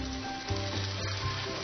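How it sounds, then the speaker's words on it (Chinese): Ginger shreds fry gently in oil over low heat, giving a soft continuous sizzle with a faint low hum underneath, brief and fairly quiet. "这样的温火啊，把这姜丝的香气都煸在油里"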